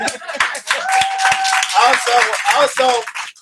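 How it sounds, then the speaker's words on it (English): A crowd claps for a speaker, a lively round of applause mixed with cheering and voices, loud and close throughout. "Y'all, please give her a round of applause."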